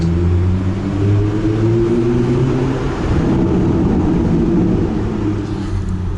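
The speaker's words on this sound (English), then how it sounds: "I just put the car in traction mode, and we're in a garage. Listen to this exhaust." A BMW M2 exhaust revving inside a garage in traction mode, a loud, deep, continuous engine roar that swells and holds throughout.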